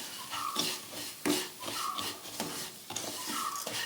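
Semolina is stirred into ghee in a pan, a soft rhythmic scraping and rasping of a spoon sweeping the grains around, repeated in short strokes with a faint sizzle underneath, fairly quiet and close.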